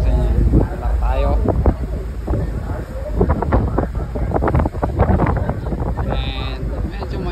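Wind buffets the microphone on the open viewing deck of a BC roll-on/roll-off ferry, a loud rushing roar under a person talking throughout.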